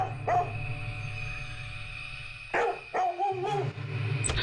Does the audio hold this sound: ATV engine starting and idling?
no